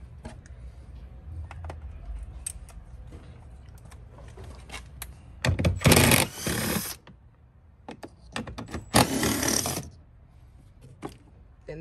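Bolts being undone on a Chevrolet Silverado door during a door handle swap, with close clicks, ratchet clatter and two louder bursts of mechanical whirring between them, no talking.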